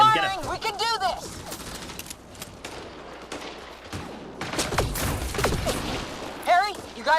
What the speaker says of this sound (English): Liam, get firing!